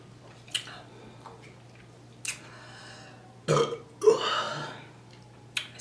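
A person burping during an eating session: several short burps spread out, the loudest two clustered near the middle and one longer drawn-out belch, with quieter mouth and chewing noises between them, close to the microphone and no speech.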